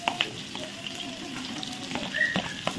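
Onion and green chilli frying in hot oil for a vegetable chowmein, a soft steady sizzle with scattered small pops and occasional light stirring clinks, close and moderately quiet.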